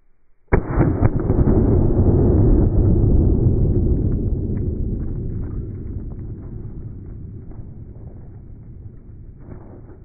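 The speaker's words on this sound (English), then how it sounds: "for the shotgun this time, we will use a 9-pellet double-aught buckshot" A shotgun loaded with 9-pellet double-aught buckshot fires one sharp, loud blast, its boom rolling away in a long fading echo.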